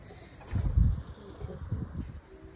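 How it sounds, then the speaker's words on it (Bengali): Pigeons cooing on a rooftop, a few low soft coos in short bursts, fairly close and moderately loud against faint background noise. "আমাদের ছাদে অনেক পায়রা বেরিয়ে এসছে আমার গলা শুনে"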